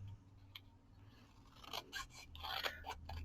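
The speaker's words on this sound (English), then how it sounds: "So I guess we're going to cut that one off too." Scissors snipping through the paper of a playing card box being made into a book, a few close, crisp cuts and rustles building toward the end over a quiet background hum.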